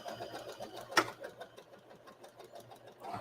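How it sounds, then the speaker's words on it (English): Domestic sewing machine stitching fabric for a small heater bag, a quiet rapid pulsing run of stitches forward and then a few in reverse, with a sharp click near the start. "we're going to put the presser foot down, do a couple stitches forward, and then reverse stitch"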